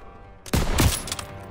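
A sharp volley of close, loud gunfire bursts out after a brief quiet in the World War II shooter Call of Duty WWII, with several overlapping shots and a rattling tail.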